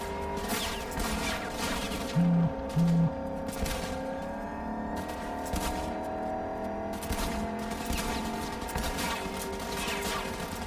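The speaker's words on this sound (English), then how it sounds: "Not interested in killing, so I'll shoot the tires." Rapid bursts of gunfire in the Cyberpunk 2077 video game, aimed at a car's tires, crack over a steady bed of game music and engine rumble for most of the stretch.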